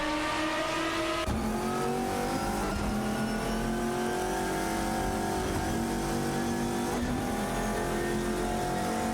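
Race cars in a video game race roar continuously at high revs, with sharp gear-shift drops in engine pitch, some tire noise and cars passing, loud and close with no speech.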